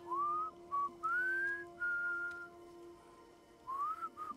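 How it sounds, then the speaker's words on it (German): Someone whistles a few short, wavering notes, some sliding upward, with brief gaps between phrases, close and fairly soft against a steady low hum. "ich pfeife hier einfach mal so"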